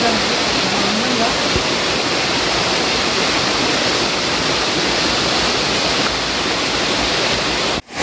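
The Jalakanteshwara waterfall at Gondivanka roars nearby, a dense, unbroken wash of rushing water that holds steady and loud throughout before cutting off abruptly at the end.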